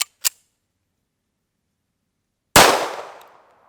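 A single .45 ACP round fired from a 1911 pistol into sandbags cracks loud and close, with a decaying tail. Two small clicks come just before it.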